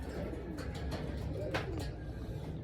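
Pigeons coo continuously in a loft, a dense, close murmur of overlapping low calls with a few sharper flutters and calls rising above it.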